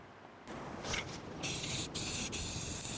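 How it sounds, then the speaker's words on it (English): Close hissing spray from a spray paint can marking out ground along a string line, delivered in a few sustained bursts with brief breaks between them. "mark out the four corners here along this pink string line with some spray paint"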